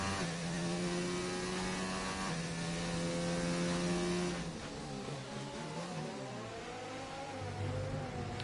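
An F3 race car in a racing game revs hard and climbs through the gears, its engine note rising steadily, dropping at a shift, then rising again, with a faint background hum throughout.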